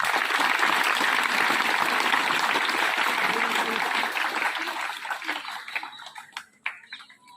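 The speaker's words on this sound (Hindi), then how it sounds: "सबके लिए ताली बजाओ एक बार" Schoolchildren at a tree-planting talk in Rajasthan clap together, a loud, dense burst of applause that carries for several seconds and then thins out into scattered last claps.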